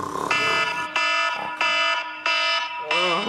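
An alarm clock rings loudly at 4 a.m. in a home, its harsh, buzzing electronic tone sounding in five evenly spaced bursts, close up and without talk.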